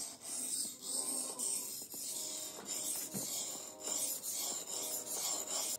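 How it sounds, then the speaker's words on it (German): Rhythmic rasping strokes of a folding knife blade drawn across a 320-grit whetstone, repeating roughly every second at close range, with no talking. "Der klassische Schleifstein mit 320er Körnung kommt jetzt auch noch zum Einsatz"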